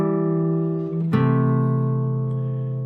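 A chord progression with two voices moving in contrary motion, played as a sustained, tone-rich chord. About a second in, the chord shifts to a new harmony with a sharp attack, then holds steady to the end without speech.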